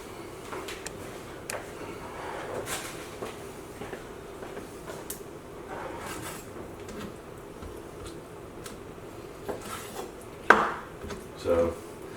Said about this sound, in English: We're just gonna cut this turkey up.